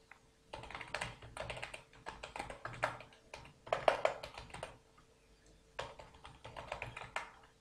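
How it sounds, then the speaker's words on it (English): Quick bursts of light keystrokes on a computer keyboard as an email address is typed, clicking in several separate runs with short pauses, close and fairly quiet. "here we will type our email"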